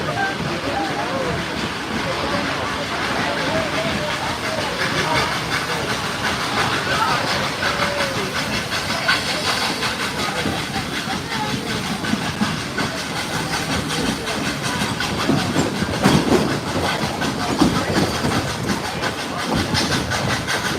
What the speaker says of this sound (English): continue running behind Tennessee's first steam locomotive,